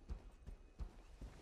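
Horse hooves clop in the Smite video game, four soft, evenly spaced low thuds at a quiet, distant level.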